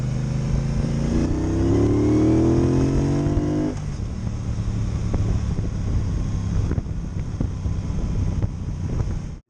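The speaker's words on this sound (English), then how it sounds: "this is a really nice, neutral handling motorcycle with a torquey motor that's easy to modulate" A 2018 Triumph Bonneville Bobber Black motorcycle engine climbs through the revs while riding, then settles into a steady drone under heavy rushing wind.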